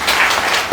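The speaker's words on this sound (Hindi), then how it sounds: "जोरदार तालियां।" Loud audience applause at a large training seminar, a dense burst of many hands clapping close by with no voices over it.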